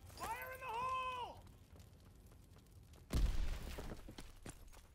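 A grenade blast in a World War II shooter lands as a sudden loud boom with debris crackle that fades over a second or two, after a brief tonal in-game voice or sound earlier.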